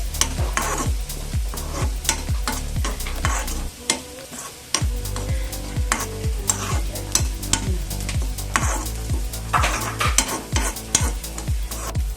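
Shallots, curry leaves and grated coconut sauté in hot oil for a Kerala-style mushroom dish, loud crackling sizzle punctuated by rapid rhythmic spatula taps against the pan, briefly pausing midway.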